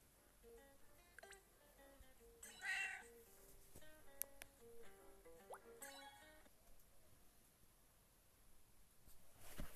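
A cat meows a few times in an ad for the I Am Cat video game, quiet and close, along with small dripping and squishy game sounds.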